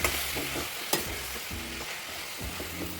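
Mushrooms and onions stirred in a hot pan, giving a steady close sizzle with repeated scraping strokes of the spoon and one sharp knock near the start, with no talking.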